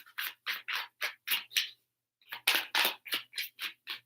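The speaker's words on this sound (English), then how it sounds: "Three shuffles." Tarot cards being shuffled in rhythmic bursts of crisp riffling, several quick flurries, a brief pause, then more rapid riffles, close and clear with no talking.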